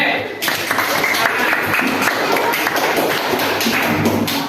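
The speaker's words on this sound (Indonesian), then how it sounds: "Tepuk tangan untuk kelompok C." A group claps together loudly and continuously, with some rhythmic, thumping beats running through the applause.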